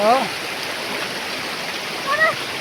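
A mountain river stream in Jajarkot, Nepal, rushes steadily with a constant, even hiss of flowing water, while a voice speaks briefly at the start and again near the end.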